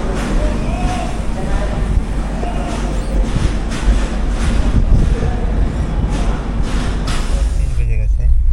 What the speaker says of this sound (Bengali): ফাইনালি বিজয়ওয়াড়া জংশন থেকে ট্রেন ছেড়ে দিল